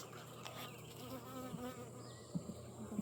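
Honey bees swarm around an open backyard hive, giving a close, continuous droning buzz with individual insects whizzing past the microphone and brief louder passes near the end.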